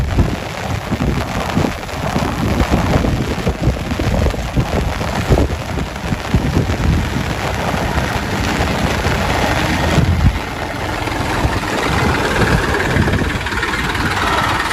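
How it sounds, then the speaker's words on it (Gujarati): A tractor ploughing a field in steady rain: an engine drones and rumbles continuously beneath the hiss of falling rain, both loud and constant for the whole stretch. "આપણે ચાલુ વરસાદમાં ટ્રેક્ટર ખેડા છે."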